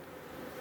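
Honey bees buzz at an open beehive while a queen excluder is fitted above two brood boxes, a soft, steady, faint hum for a brief moment with no voices over it.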